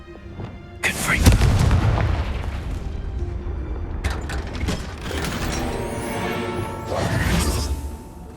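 Casting Confringo in Hogwarts Legacy unleashes a heavy booming blast with a fiery whoosh, then sustained rumbling and mechanical clatter, with further swells of impact noise later on.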